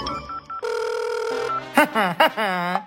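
A telephone rings after a call is placed, a short electronic tone followed by a sustained steady ring lasting about a second, then a voice speaks right after it.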